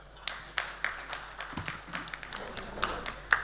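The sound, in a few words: audience applause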